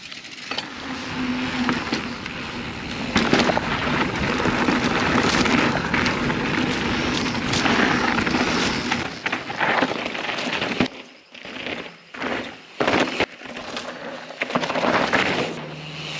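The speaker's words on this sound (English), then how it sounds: "So I'm going to jump on, take it for a ride" Rolling ride on a Specialized Status 160 aluminium-frame mountain bike, with loud continuous wind and tyre rumble on the trail that breaks up briefly near the end.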